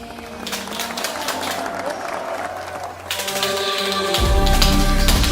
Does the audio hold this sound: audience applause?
yes